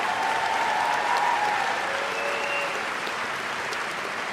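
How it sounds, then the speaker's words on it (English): Large commencement crowd applauding graduating community college candidates as they rise, a broad steady wash of clapping from a big hall, slightly distant, with faint whistles. "Give them a round of applause."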